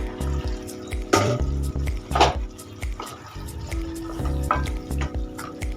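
Flat beans cook in oil in a pan over a low gas flame, giving soft, irregular bubbling and sizzling with repeated stirring scrapes throughout.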